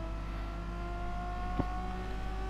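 Race car engines at the start of a Gran Turismo Sport race at Blue Moon, a loud sustained droning whine with rising revs and a brief thump partway through, no voices.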